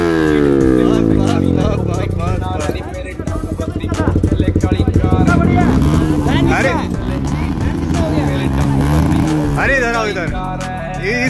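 KTM Duke 390 motorcycle exhaust revving loud and close, rising and falling with a throaty roar through most of the stretch, while people talk over it.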